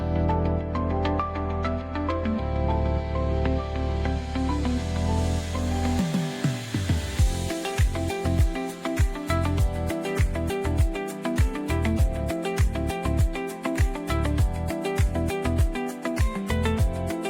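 Sewing machine stitching a kinari stitch along the top of a pleated skirt, a rapid, even mechanical chatter running steadily at close range with no talking.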